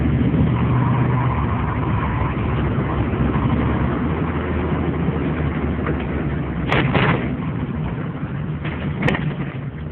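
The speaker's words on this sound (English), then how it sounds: "Put it in drive. It goes in drive. It's a lot of power." 1987 Chevrolet Corvette Targa in fair condition, driving with a steady, muffled engine hum and road rumble, close and continuous, with a couple of brief knocks and no talk.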